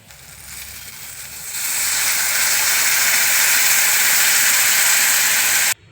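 Tamarind juice poured into a hot curry pan: a quiet opening gives way to a loud, steady hiss and sizzle of steam that holds for several seconds, then cuts off sharply.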